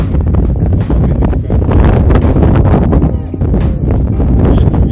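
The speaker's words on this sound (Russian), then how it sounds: "Ветер очень сильный." Strong wind on a mountain above Benidorm buffets the microphone with a heavy, continuous low roar and gusty rumbling that rises and falls, loud and close.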